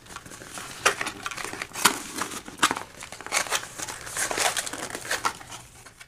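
Crinkling and rustling bursts as tape and packaging are peeled and torn off a Black Friday parcel, irregular close scrunches and rips with short pauses between.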